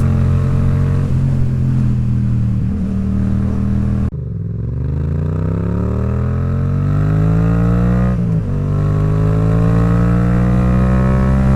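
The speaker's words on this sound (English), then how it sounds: "And of course that exhaust that you can hear." A loud Yamaha XSR700 with an Arrow aftermarket exhaust rumbles close by with a deep, throaty tone, its pitch climbing twice as the engine revs up.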